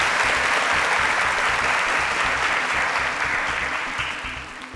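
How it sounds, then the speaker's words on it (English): Steady applause from a studio audience at a televised quiz show, dense and continuous throughout, tapering slightly toward the end with no talk over it. "A round of applause."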